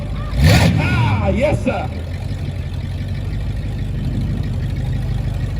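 A Ford Mustang V8 rumbles steadily at idle with a brief rev near the start, the engine close and continuous beneath a short burst of excited voices and a man's brief reply at a charity car event.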